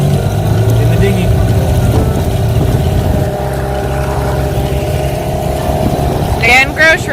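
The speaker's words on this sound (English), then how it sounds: "So this is our new commute to work in the dinghy." A dinghy's outboard motor drones steadily on a ride across open water, loud and close, with water splashing and wind noise growing toward the end while people talk over it.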